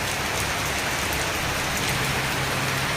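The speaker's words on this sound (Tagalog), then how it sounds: "napakalakas ng ulan" Heavy rain pours steadily over a rice field, a dense, loud hiss of drops hitting surfaces with no pause, no voices.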